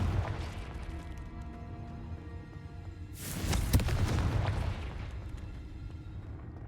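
A Confringo blasting spell goes off in a video game, one loud burst with a rolling rumble lasting about two seconds over a low, steady game background.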